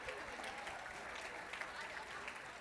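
A seated summit audience gives a sustained, fairly faint round of applause, a steady broad wash of many hands clapping with crowd murmur mixed in.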